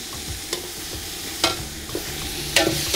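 Green and red chilies being stir-fried in a wok with dried chilies, oyster sauce and sugar, a constant close sizzle punctuated by a few sharp scraping strokes of the spatula, with no voices.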